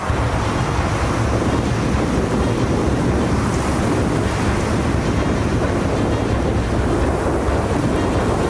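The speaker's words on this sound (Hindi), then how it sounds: "डैम के ऊपर से पानी निकल रहा है।" A loud, constant roar of monsoon floodwater pouring over a dam, broad and unbroken like a torrent spilling over a barrier, with no voices.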